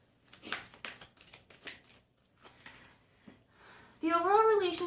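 Tarot cards being shuffled, a run of dry papery riffling bursts spread over several seconds, followed at the end by a louder tonal sound.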